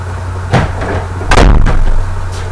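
A door is shut nearby, with a couple of thuds and then a louder slam, alone against a steady background hum.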